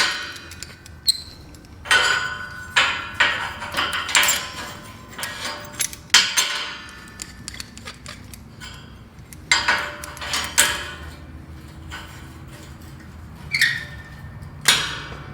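Metal bar grating being clamped down onto scrap pieces before cutting with a Milwaukee metal-cutting skill saw, giving a run of sharp metallic clanks and knocks, close and moderately loud, spread irregularly through the span with quieter rattles between.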